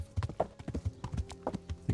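A horse trots in Kingdom Come Deliverance, its hooves clip-clopping in a quick, steady rhythm, close and clear with no talking.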